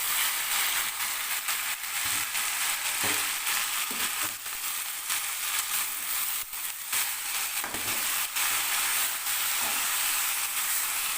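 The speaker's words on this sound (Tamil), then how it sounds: "இப்போ வந்து இந்த முருங்கைக்கீரையும் அதிலேயே போட்டு வதக்கிக்கலாம்" Drumstick leaves sauté in a hot pan for a drumstick leaf chutney, giving a steady hiss of frying with intermittent soft scraping and stirring knocks.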